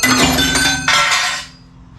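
Spanner clinking against engine parts on a Land Rover Discovery 3 / LR3 during a serpentine belt replacement: two close, bright metallic knocks with ringing overtones, the second at about one second, fading out afterward.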